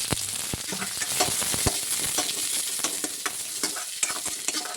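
Mustard seeds and onion fry in hot oil in a kadhai, giving a loud, continuous sizzle and crackle broken by sharp pops and the scrape of stirring.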